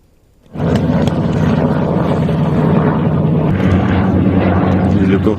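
A US military helicopter on a pilot rescue mission after a downed F-15 starts up abruptly and roars loud and close, its rotor and engine drone holding steady and filling everything to the end.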